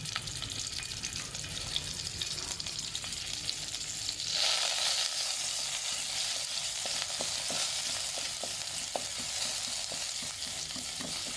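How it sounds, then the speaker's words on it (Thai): Beef curry paste stir-fried in a hot pan, a steady loud sizzle that swells midway as the paste hits the oil, with sharp scraping taps of a spatula throughout and no talking. "ลงไปผัดให้หอมๆเลยนะครับ"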